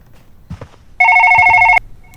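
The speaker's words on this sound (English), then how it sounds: "I can still hear a phone!" A telephone rings in the horror video game The Way Home, a loud, steady electronic double-toned ring that sounds once for nearly a second after a few faint footsteps, then cuts off abruptly.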